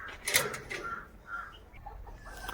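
Hens cluck softly in a small wire-fenced shed on a free-range poultry farm, a few short faint calls spread over quiet background noise.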